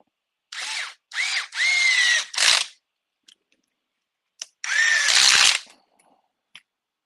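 A power driver drives a screw into an RC car chassis in several loud, close whirring bursts whose pitch rises, followed by a longer final burst and brief clicks in between.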